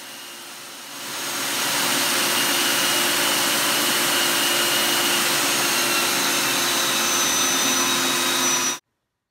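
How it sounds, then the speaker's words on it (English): Power sander working wood down to rounded radiuses, a loud steady roaring whine that spins up and holds constant for several seconds before cutting off abruptly. "I was able to sand those radiuses down very effectively using this."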